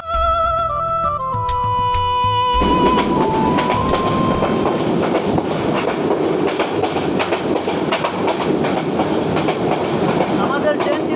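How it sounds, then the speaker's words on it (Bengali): Train running at over 80 near the high hills of Sitakunda past Chittagong, a continuous loud rumble and rhythmic wheel clatter, opening with a few seconds of sustained tonal sound before the rolling noise takes over. "আমাদের ট্রেন কিন্তু এখন 80-র উপরে স্পিডে যাচ্ছে, 80।"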